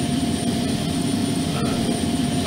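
Steady loud whine and roar of an air starter unit beside a FlightFactor A320 in X-Plane, a constant broadband engine-like drone with no voices over it.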